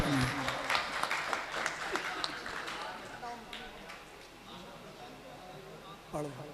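Applause for poet Zubair Ansari at a 2022 mushaira in Kiratpur, Bijnor, a crowd clapping fairly faintly, loudest at first and tapering, with voices over it.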